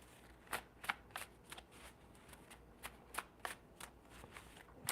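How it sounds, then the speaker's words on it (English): A deck of tarot cards is shuffled by hand in a quiet room, with a series of soft, crisp riffling bursts at an uneven rhythm. "I just need a shuffle, Spirit."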